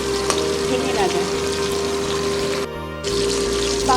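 Soft Ganges bhola fish sizzling in hot oil in a pan, a steady crackling fry that runs for about four seconds with a short dip near the end and a faint tap-like clink.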